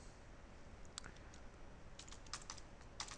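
Soft clicking keystrokes on a computer keyboard as a domain name is entered, faint and sparse, a few quick taps over a quiet background hiss.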